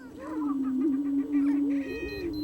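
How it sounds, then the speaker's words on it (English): Attwater's prairie chicken booming on the Texas Gulf Coast prairie: a low, hollow, droning coo held steadily for about two seconds, with faint bird chatter higher up, close and clear. "noted author and bird expert Tory Peterson has come to witness the booming of the Attwater's prairie chicken."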